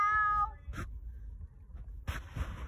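A rescued cat gives a clear, harmonic meow at the start, close and fairly loud, followed by brief rustling bursts and handling noise outdoors.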